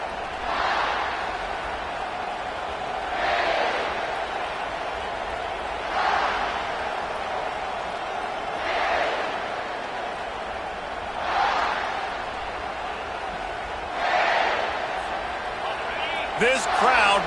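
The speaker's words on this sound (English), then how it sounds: "This crowd bringing an ear-splitting welcome to their visitors." A college football stadium crowd roars in waves, each swell rising for a couple of seconds and falling back, repeating about six times under continuous play-by-play commentary.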